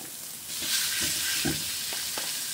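Chicken browning in a pot for tinola gives a steady, close sizzle with a few soft scraping stirs and clinks, with no talking.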